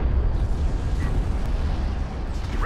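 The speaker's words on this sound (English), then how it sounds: "Rachel is taking fire." Heavy explosions and weapons fire rumble through a Homeworld: Deserts of Kharak battle. A dense, continuous low roar of blasts runs throughout, with no speech.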